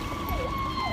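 A fire engine siren wails nearby, its tone sweeping down and back up in a continuous cycle over steady road and engine rumble.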